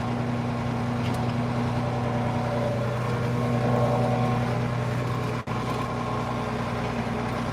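A tractor engine drones steadily while pulling a subsoiler, a loud, constant low hum with a strong tonal rumble and a brief dip partway through.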